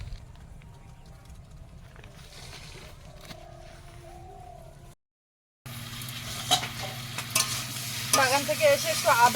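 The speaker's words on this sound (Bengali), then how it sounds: "কুমড়োটা মা ভাজছিল" Pumpkin frying in a pan sizzles in a low, steady hiss at first. After a short silent break it returns louder and busier, with crackles and stirring noises building toward the end.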